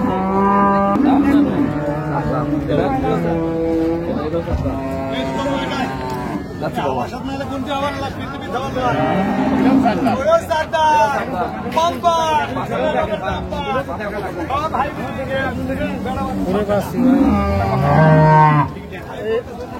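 Dairy cows and calves of improved breed moo repeatedly at a busy rural cattle market in Raniganj, Dinajpur, with long drawn-out calls rising over a steady babble of crowd chatter and nearby talk.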